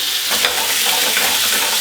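Steak sizzles loudly in a hot pan, a dense steady crackle close up with no voices.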